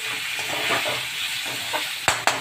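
Turmeric fries in a pan with rohu fish, bitter gourd and potato, giving a dense, steady hiss and sizzle heard up close, ending with two sharp clacks near the end.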